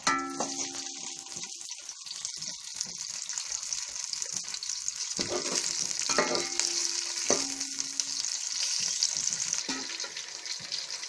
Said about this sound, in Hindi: इसमें सब्ज मिर्च डाल के इनको फ्राई कर लेंगे